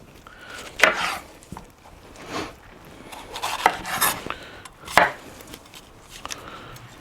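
Knife on a cutting board chopping green bell peppers and onions into one-inch pieces for beef kebabs, with irregular close thuds and scraping strokes spaced a second or so apart.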